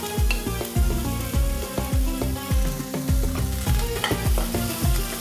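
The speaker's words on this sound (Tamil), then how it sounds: "அதையும் ஒரு நிமிஷம் வதக்கி வச்சுருவோம்." Onion and celery stems are sautéed in a pan for an oats vegetable soup, with loud, regular scraping and knocking strokes from a spatula over a constant sizzle, close by and with no talking.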